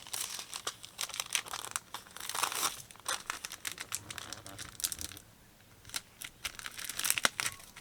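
Paper packaging is creased and folded for a Christmas cookie bag topper, giving close, irregular crinkling and rustling bursts with short quiet gaps.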